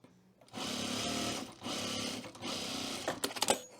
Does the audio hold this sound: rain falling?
no